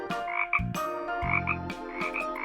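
Frogs croak in a steady chorus around a pond, the repeated calls coming in clear, fairly close bursts over a layered, tonal background with no voices.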